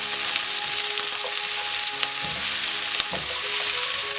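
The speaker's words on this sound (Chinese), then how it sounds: "炒出香味儿" Scallions and ginger are stir-fried in a hot wok, giving a steady close sizzle with occasional scrapes of stirring and no talking.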